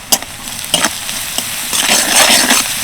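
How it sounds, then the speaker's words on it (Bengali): Onions frying in oil for palong cholar dal: a loud, close sizzle with sharp stirring scrapes near the start, then the frying hiss swells and stays steady, with no talk. "পেঁয়াজটাকে বেশ লাল লাল করে ভেজে নিয়েছি"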